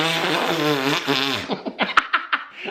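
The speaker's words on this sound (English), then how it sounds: "go fucking fart" A loud, drawn-out fart sound with a buzzing, wavering tone runs alone for about a second and a half, then breaks into a few short sputtering pops.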